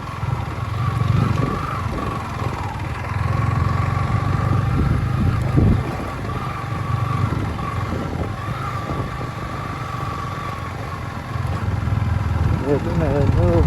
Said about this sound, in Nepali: मलाई फेरि अफरोडमा कुदाउनु मजा आउँछ नि त बाइक